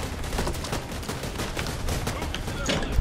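Rapid gunfire in a video game boss fight, shooting at two lights overhead: a dense, continuous stream of loud crackling shots with no pauses, running the whole time.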